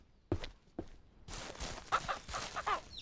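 Chickens on a farm in the Ranch Simulator video game cluck in short, close bursts, first sparse single notes, then a busier run of overlapping clucks.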